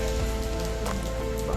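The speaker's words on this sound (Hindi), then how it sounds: "बारिश नहीं रुकी।" Heavy rain falls steadily on the roads around Sultanganj, making a dense, continuous hiss of drops hitting surfaces nearby with no breaks.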